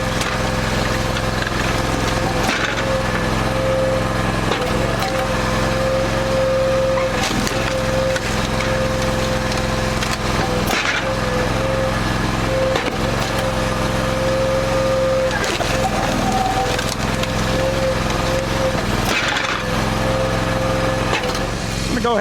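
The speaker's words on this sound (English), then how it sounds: "Go ahead and turn the splitter off and we'll take a look at the size of those splits." Motorized wood splitter with an adjustable wedge running steadily outdoors, a continuous small-engine drone under repeated woody cracks and splintering bursts as logs split, loud and close throughout.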